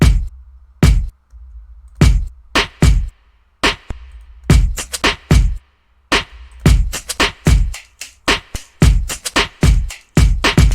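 Layered FL Studio pop drum loop of kick, snare, shaker, snap and clap, with overdrive on the kick and snare and reverb on the snare; punchy hits repeat in a tight rhythmic pattern, alone and clean.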